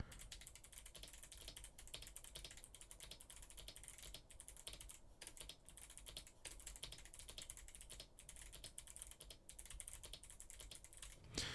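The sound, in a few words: clicky mechanical keyboard typing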